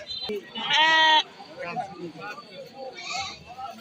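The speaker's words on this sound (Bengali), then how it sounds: "এখানে হচ্ছে ছাগল আর বেড়ার জায়গা" Goats and sheep at a cattle market in Gopalpur, Tangail, with one loud, drawn-out bleat up close early on, then a lively mix of people's voices and market bustle.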